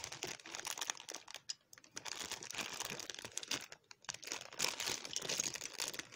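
Crinkling, rustling plastic and cardboard as Playmobil toy packaging is handled and opened, with short crackles and tearing sounds, close and fairly quiet.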